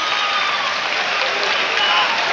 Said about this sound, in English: Gets a nice round of applause from the sellout house.